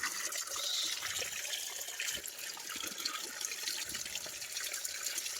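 Water flowing from a natural spring on a farm lot, a faint, steady splashing and gurgling rush with a hissy texture, continuous and without talk.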